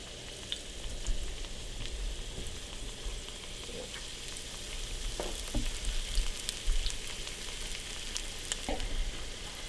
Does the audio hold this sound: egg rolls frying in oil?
yes